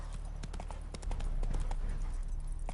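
A horse gallops in the video game The Witcher 3, with a rapid, continuous clip-clop of hooves heard close and fairly loud, with no talking.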